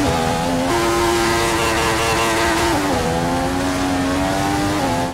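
A Formula 1 car engine in a racing video game screams loud and close, its high whine climbing steadily with sharp drops at each gear shift, alone with no voices.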